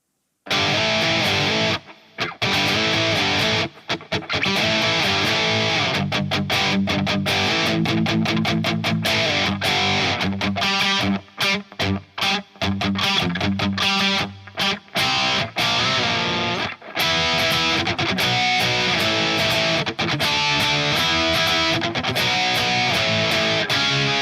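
Heavily distorted electric guitar plays chugging rhythm riffs with sharp stops and gaps, loud and close, with no other instruments.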